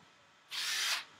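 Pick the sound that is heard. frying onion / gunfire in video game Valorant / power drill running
power drill running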